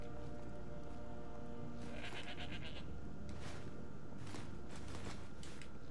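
A goat in a video game lets out a few distinct bleats over a low, steady background hum, moderately close but not loud.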